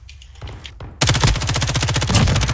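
Rapid automatic gunfire in the Warzone video game, a few scattered distant shots then a loud, close sustained burst of rhythmic rounds lasting well over a second.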